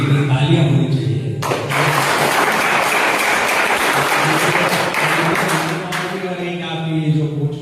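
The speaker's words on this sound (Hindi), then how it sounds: "तालियां होनी चाहिए।" Audience applause at a welcome and honour ceremony for a bronze-medal wrestler, a burst of steady, fairly loud clapping of several seconds, with someone talking just before and again as it fades.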